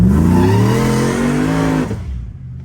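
A Chevrolet Silverado on Hoosier slicks accelerating hard with tires spinning, a loud close engine roar with rising pitch that cuts off sharply near the end.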